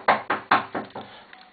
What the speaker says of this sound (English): That's Poppy knocking on the door